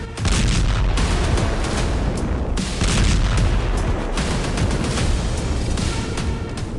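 Explosions from Israeli bombing in Syria: a dense barrage of heavy booms and rumbling blasts, loud and continuous, with sharper bursts cutting through at intervals.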